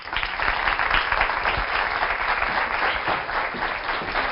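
A studio audience on a Portuguese TV show applauds the arriving guests, a veterinarian among them, with loud, continuous, close clapping and no talk over it.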